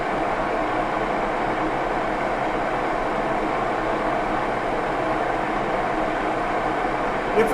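Axelson lathe turning hardened steel with a Micro 100 carbide cutting tool, giving a steady broadband machining roar and hiss that holds continuously at a loud, even level throughout.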